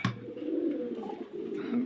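Pigeons at a pigeon sale coo in low, soft, steady bursts close by, with a faint high whine above.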